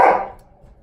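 A single loud, close dog bark, sharp and quickly fading, from a dog reacting to squirrels outside.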